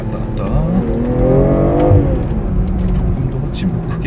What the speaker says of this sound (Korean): 속도를 낮췄다가 다시 풀악셀